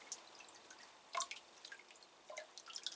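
Faint scattered drips of water fall while orchids are watered indoors, irregular soft plinks and splashes spaced unevenly across a quiet background.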